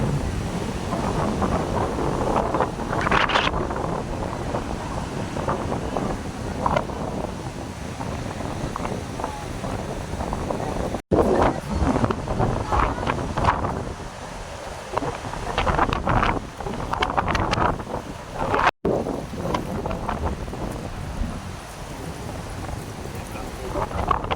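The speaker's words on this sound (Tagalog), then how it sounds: "Grabe, malakas talaga yung alon dito." Strong sea waves break along an Ilocos Norte shore, a loud, continuous rushing roar with gusty wind buffeting the microphone and a couple of sharp clicks.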